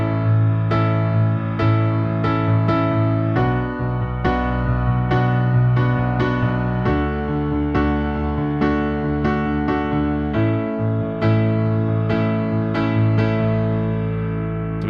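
Piano playing a song, with low left-hand chords held under short syncopated right-hand chord hits that fall off the beat, steady and close, no talking.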